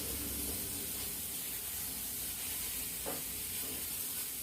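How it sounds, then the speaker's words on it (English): Mushrooms sauté in a pan for a plant-based sausage, giving a steady, soft sizzle and hiss of liquid cooking off, with an occasional light stir or scrape and no voices. "we're going to saute these mushrooms till we get all the liquid out of them"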